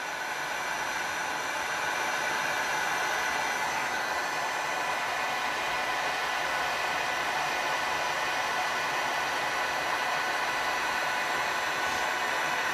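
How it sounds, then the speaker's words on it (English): A heat blower runs with its fan turned up over epoxy resin in a tray mold, a loud, steady, continuous airy roar with no talking. "I'm going to turn the heat down. I'm going to go ahead and turn the fan up."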